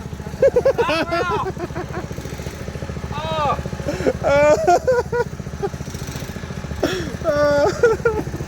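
A small mini bike engine runs throughout with a steady buzzing idle and brief revs, its bike lifted off the ground for a test run, while several people talk over it nearby.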